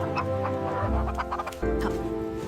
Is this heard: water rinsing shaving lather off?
no